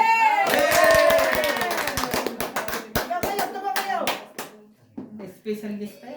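A congregation at an Ilocano church fellowship in London claps by hand, starting with scattered claps that build into quick rhythmic clapping and then thin out, while voices speak throughout.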